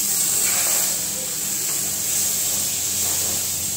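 Gram flour (besan) sizzling in hot oil on a tawa, a steady, close frying hiss that holds evenly throughout with no talk.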